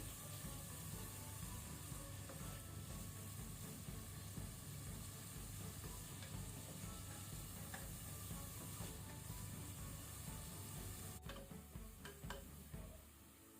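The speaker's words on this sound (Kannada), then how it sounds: "ಸ್ವಲ್ಪ ಉಪ್ಪು ಸೇರಿಸಿ, ಆಗ ಬೇಗ ಫ್ರೈ ಆಗ್ತದೆ ಈರುಳ್ಳಿ." Onions frying in a pan with a little salt while being cooked for a mutton green masala, giving a steady close sizzle with stirring scrapes throughout and no talk.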